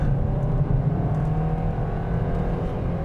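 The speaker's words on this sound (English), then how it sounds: "the first thing I do wanna test out is the 0 to 60 performance" A 2023 Kia Niro Hybrid compact hatchback accelerates hard from 0 to 60 in sport mode, a steady low engine and road drone with a rising whir, heard from inside the car without talk.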